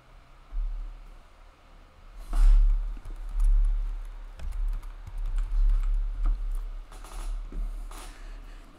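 Close keys clatter on a computer keyboard in uneven bursts of quick taps, with a low rumble underneath and no talking.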